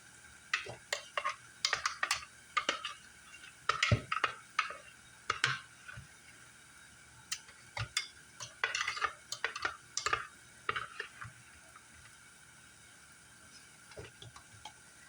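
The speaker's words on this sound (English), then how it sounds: "What I'm doing, I'm scooping the leftover sofrito in this container here" Leftover sofrito being scooped into a container with a utensil, producing a run of sharp clinks and scrapes against the container in irregular bursts, close and moderately loud, with brief pauses between scoops.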